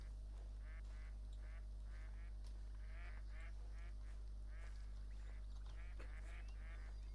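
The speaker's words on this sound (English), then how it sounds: "I hear ducks." Ducks quacking in the hunting video game theHunter: Call of the Wild, a run of faint, distant honking calls repeating over a steady low hum, with no voices.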